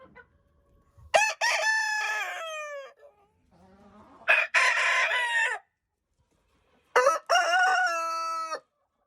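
A rooster in a backyard flock crows three times, loud and close, each long crow separated by a few seconds of quiet, with a softer cluck between the first and second calls.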